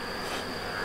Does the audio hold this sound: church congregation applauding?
no